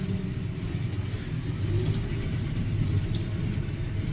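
A John Deere 6215R Ultimate Edition tractor engine runs steadily with a low, continuous rumble, heard from inside the cab while driving, with no talk.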